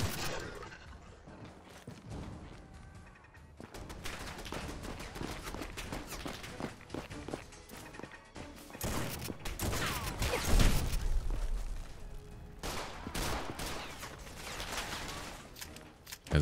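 Gunfire in a modded Fallout 4 combat session on Far Harbor, with repeated shots and bursts amid loud, dense game sound, including a heavy low blast partway through and clattering effects.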